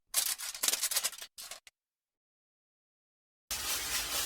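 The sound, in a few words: aluminum foil being torn and wrapped around smoked oxtail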